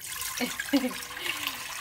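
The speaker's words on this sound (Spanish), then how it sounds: "le voy a poner agua a hervir en esta olla" Water pours from a tap into a cooking pot for boiling soup, a short splashing, gurgling run heard close up with no talking.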